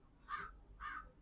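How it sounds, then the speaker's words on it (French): Crows caw twice in a steady pair, each call short and harsh, heard faintly and from a distance with nothing else around them. "T'entends même les corbeaux."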